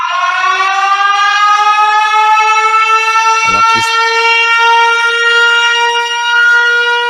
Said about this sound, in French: Alors, Christine, la sirène était pour vous.